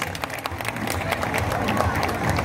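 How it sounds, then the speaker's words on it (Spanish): A crowd claps and cheers loudly, with dense applause and some background chatter mixed in. "El aplauso fuerte, señoras y señores."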